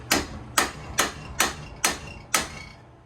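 A bearing race chisel is hammered around the lip of a Wright Stander front wheel bushing: six sharp, close metallic strikes at a steady, even pace with no talking.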